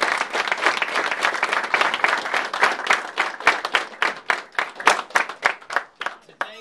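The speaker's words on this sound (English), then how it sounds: "Let's give him a round of applause" Applause for W.C. Gentry at a football locker room presentation, a small group clapping loud at first, then thinning to scattered separate claps that fade out.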